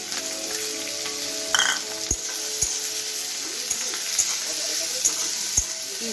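Capsicum, tomato and ginger-garlic paste sauté in a pan with a steady close sizzle, punctuated by regular clinks and scrapes of a spoon stirring against the metal, with no talk.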